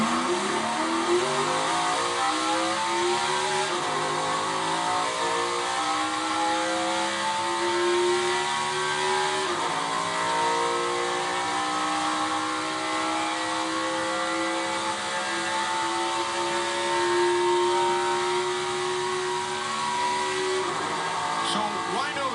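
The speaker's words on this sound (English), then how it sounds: "You could hear the engine almost stall out." NASCAR race car engine at Daytona 500 qualifying launching off pit road, a loud onboard roar climbing through the revs with rising harmonic sweeps and gear changes, with a commentator talking over it.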